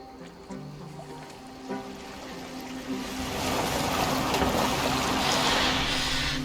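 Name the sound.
boat on water in video game Assassin's Creed Valhalla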